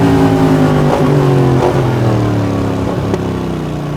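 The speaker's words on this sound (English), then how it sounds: "as you hold it wide open, it's definitely a big bike with a big sound" A big motorcycle engine roars steadily at wide open throttle, a loud, sustained deep drone with a slight waver in pitch.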